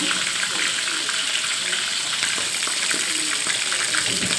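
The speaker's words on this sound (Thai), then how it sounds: "ทอดปลาทูนะคะ" Mackerel fries in a pan with a dense, continuous spattering crackle and bubbling that stays fairly loud throughout, with a voice talking over it.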